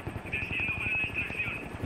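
Helicopter in the Gears 5 video game, a steady rotor drone with a tonal whine sitting under game effects and voices throughout the short stretch.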